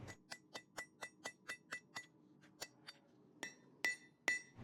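Hand hammer blows on a nail header held at the anvil edge in a blacksmith's forge: about a dozen sharp ringing metallic strikes in a quick, even rhythm, a short pause, then a few heavier, louder ringing hits, close and clear.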